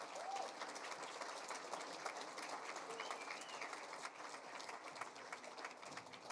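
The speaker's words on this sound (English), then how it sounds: "if we could have a huge round of applause one more time" Sustained applause from a crowd at a Sault Ste. Marie Chamber of Commerce business awards event, a steady wash of clapping that fills the whole stretch without pause.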